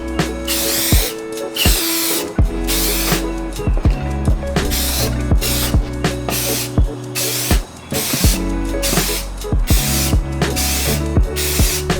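A spray paint can coats Toyota 5S-FE engine parts from a 1994 Celica GT in bursts of steady hissing, broken by short gaps and the rattle of the can's mixing ball.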